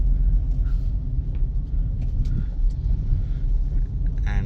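Steady low road rumble inside a moving car, droning continuously throughout with a few faint higher clicks and rattles on top and no talk.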